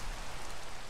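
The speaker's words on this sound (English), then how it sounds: "Can we stop the rain?" Steady, dense rain in a video game, an even hiss of falling drops filling the whole moment with no pauses or voices.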